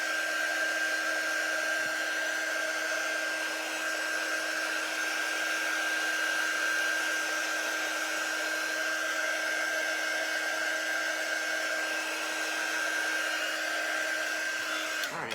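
A hair dryer blows continuously and loudly to dry craft paint between layers, a steady whining rush of air with no pauses and no talk.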